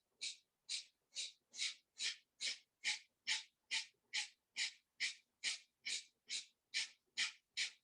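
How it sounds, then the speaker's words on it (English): During breath-of-fire yoga breathing, about seventeen sharp, forceful exhalations through the nose come in an even, rapid rhythm, close and clear with no talking. "That forced, sharp exhalation through the nose, and that forced belly pumping in, navel towards the spine."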